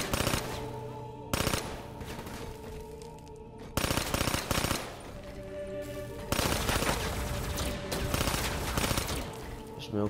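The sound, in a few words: gunfire bursts in the video game Black Ops III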